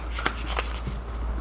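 Tarot cards are shuffled by hand in a few quick riffling bursts, faint and close.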